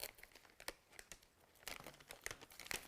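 A plastic Glad bag crinkles and rustles as it is pulled over garden cuttings, giving quiet, close, irregular bursts of crackling with brief pauses between handlings.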